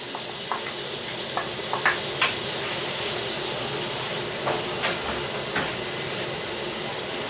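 Garlic hits a hot pan for garlic butter mushroom stuffed chicken, giving a steady close sizzle and hiss with a louder surge in the middle and scattered small crackles and taps.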